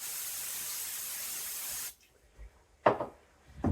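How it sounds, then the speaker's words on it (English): A steady hiss of cooking spray into a bowl for about two seconds, then it stops and a few quiet clatters and rustles follow. "I just spray some cooking spray."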